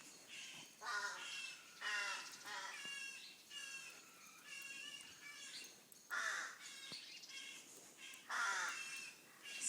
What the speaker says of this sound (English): I can hear baby rooks